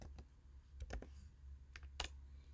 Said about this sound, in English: go to Google, just type a Git download